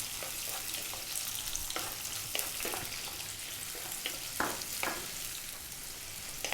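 Sliced onions sizzling steadily in a pan for a vegan chana dal rice, with repeated scraping and clacking as a utensil stirs them, close and continuous.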